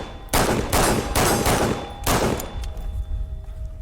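Bursts of rifle fire from a battle rifle at a range, loud broadband blasts in a few rapid clusters with a decaying tail, no talking.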